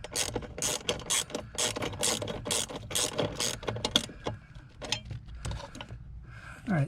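Ratcheting tool driving screws to refit a bracket during removal of a dealer-installed alarm from a Toyota FJ Cruiser, heard as rapid, close mechanical clicking in bursts with brief pauses.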